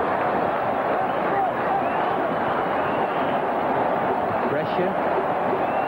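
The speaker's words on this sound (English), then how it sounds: "Listen to that crowd going wild." A packed stadium crowd roars during an India versus Pakistan one-day cricket international at Karachi in 1997, a dense, continuous mass of cheering and shouting throughout, with a commentator talking over it.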